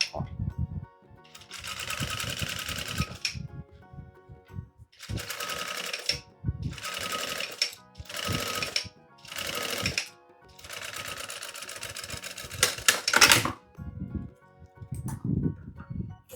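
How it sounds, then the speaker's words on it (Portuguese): A sewing machine fitted with a presser foot stitches synthetic trim for a child's car seat organizer, running in several loud bursts of rapid whirring with short stops between them, while someone talks in the pauses. "agora a gente vai costurar com um pezinho de máquina"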